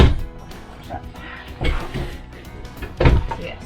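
Drawers opening and closing in the bedroom of an RV at a spring RV show, several dull wooden thumps and slides spaced out over a few seconds, close by, with a few faint voices in the background.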